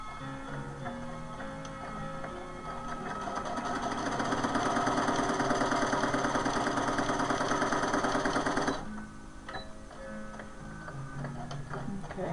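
Sewing machine stitching a hospital gown for an 18-inch doll, a steady rapid mechanical whir with ticking needle strokes that builds, stops abruptly, then gives way to quieter handling sounds nearby.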